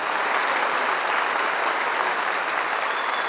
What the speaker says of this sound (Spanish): Buena parte de estos aplausos provienen de congresistas que hoy están detenidos